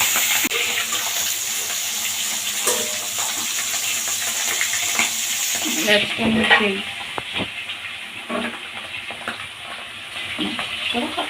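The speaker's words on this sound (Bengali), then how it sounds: "তেলটা গরম হয়ে গেছে এবার একে একে মাছগুলো আমি ছেড়ে দেবো" Fish slid one by one into hot oil in a pan: a loud, continuous frying hiss that suddenly drops and turns rougher midway, followed by scattered clatter and spattering pops.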